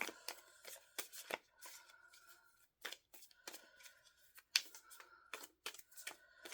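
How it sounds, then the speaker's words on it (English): Tarot cards shuffled and drawn in quick crisp riffles and snaps, close and clear, coming in irregular bursts with short pauses between them. "I'm gonna pull us some more cards now"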